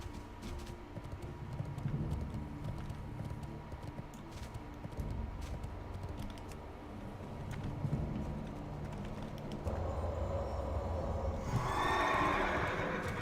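A horse in World of Warcraft Wrath Classic, in the Grizzly Hills, whinnies near the end over steady clip-clopping hooves and a low wilderness ambience, the neigh rising loud and close after a long stretch of hoofbeats.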